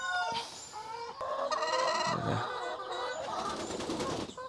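Dominant CZ chickens cluck close by while a rooster crows on a farm in Cebu, with layered bird calls overlapping throughout the short stretch.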